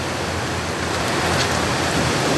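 Steady, dense rain pours down without a break, a loud even hiss that fills the whole moment with no voices.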